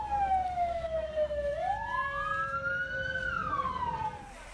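A fire truck siren wails as the engine arrives at a burning illegal cigarette factory in Ogan Komering Ulu, Indonesia, its tone sliding down, then sweeping up and falling again, loud and close over steady road rumble, with no talk.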